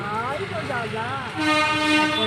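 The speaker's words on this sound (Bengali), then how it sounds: "ওই যে ট্রেন যাচ্ছে" A train passing a closed level-crossing gate sounds its horn in long sustained tones while voices talk nearby over the rumble.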